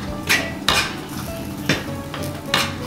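Refried beans being smashed and stirred in a pan for a Mexican taco dinner, with about five sharp clanking strikes of the masher against the pan over steady soft stirring and faint sizzling, close by, with no talking.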